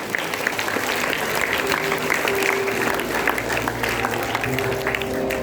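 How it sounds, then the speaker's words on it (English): Audience applause for performers at a Kargil Vijay Diwas commemoration event, a steady wash of many hands clapping at moderate level, continuous throughout with a low hum underneath. "Let's give them a big round of applause"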